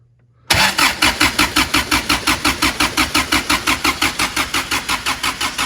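A Toyota 22RE engine cranks on a cold start attempt: the starter kicks in abruptly and churns in a fast, even, loud rhythm without catching, close up with no talk.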